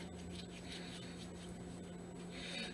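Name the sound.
rubbing skin cream onto hands and knuckles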